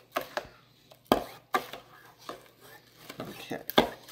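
A spoon knocks and scrapes around a bowl of watery rice pudding mixture, giving a dozen or so irregular clinks and stirs, close and moderately loud, with no talk.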